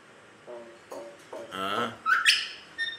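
A pet myna bird gives a series of short chirps and squawky calls at close range, rising into a few sharper, brighter cries near the end, with no talking.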